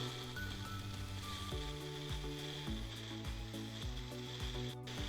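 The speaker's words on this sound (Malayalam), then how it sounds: "ഇനി നമ്മൾ ജാറടച്ച് നമുക്ക് ഈ മാങ്ങ അടിച്ചെടുക്കാം." Mixer grinder jar blending mango pieces, a loud, close motor whine whose pitch steps and shifts repeatedly as the blades churn the fruit, running steadily with no voices.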